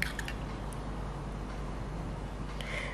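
Pineapple pieces in syrup are poured and spread over a pudding, giving soft wet drips and squishy liquid splashes, faint and close, with no talking.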